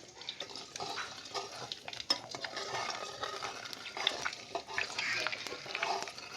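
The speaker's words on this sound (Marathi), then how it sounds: "थोडीशी मी खसखस घेतली हा त्या तुपातच टाकते आता" Poppy seeds sizzling in ghee in a pan, a faint steady crackle with soft stirring scrapes throughout, no voices.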